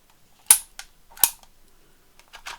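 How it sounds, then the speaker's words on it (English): Dymo label maker embossing letters onto tape, each squeeze giving a sharp, loud snapping clunk; two strong snaps about a second apart, then lighter clicks and a softer double snap near the end, with no talk. "So I've got my Dymo machine out."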